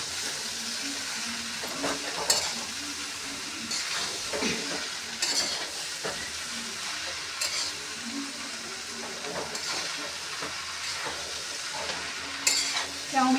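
Chow mein with coriander leaves and ghee being stirred and fried in a pan, a continuous soft sizzle with scattered clinks of a utensil against the metal, close with no talking.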